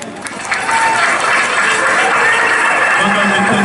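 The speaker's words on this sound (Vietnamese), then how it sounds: "Xin quý vị một tràng pháo tay để động viên cho giáo sư chúng con tối hôm nay." Audience applause at a church concert night celebrating the Holy Name of Jesus, a dense wash of clapping that swells and holds steady across the hall, with no voices over it.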